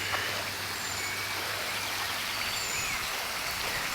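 River water in The Glen flows continuously as a soft, steady rush, fairly quiet and unbroken, with a faint low hum underneath for the first half and no talking.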